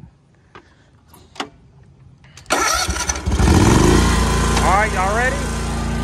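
A ride-on lawn mower engine cranks and catches, then roars into a loud, steady run close by, preceded by a few scattered knocks and a person speaking briefly before it starts.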